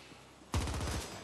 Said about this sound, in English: Alright, got the SMG out.